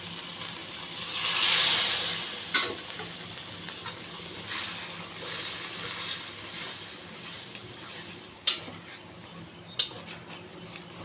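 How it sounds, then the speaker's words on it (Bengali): Warm water poured into hot oil with Kashmiri chili powder, giving a rising hiss and bubbling sizzle that swells early and then settles into a quieter steady fry with a few sharp clinks. "তেল ছেড়ে দিয়েছে, এবার একটা উষ্ণ গরম জল দেবো"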